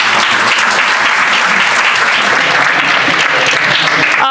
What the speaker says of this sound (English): So round of applause for Nicole with tech hiring is broken.